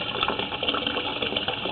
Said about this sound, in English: turn the water off now